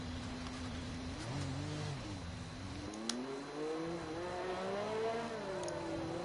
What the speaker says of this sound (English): And Breakfast King is doing some burnouts.